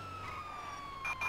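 Police siren from the video game GTA V with the LSPDFR mod, a steady electronic wail that holds a constant pitch and runs continuously with no talk over it.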